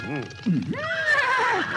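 A horse gives a single shrill, wavering neigh that rises and then trails off, loud and close, in a Telugu comedy scene; a brief voice is heard just before it.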